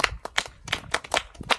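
A small group of people claps for a child, about a dozen quick, close, uneven claps over under two seconds with no talking.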